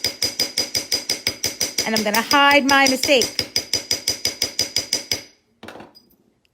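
A texture hammer strikes a metal stamping blank in a long run of sharp, evenly spaced metallic taps, close and loud, with a person talking over them midway; a final few softer taps follow after a short pause.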